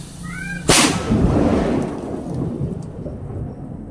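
A homemade DIY firecracker goes off once, a sharp loud blast that rolls into a long rumbling decay, heard outdoors with no talking.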